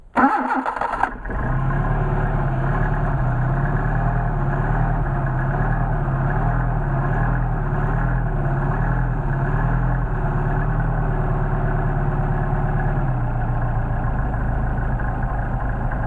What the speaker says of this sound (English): Now we got a real nice idle as it warms up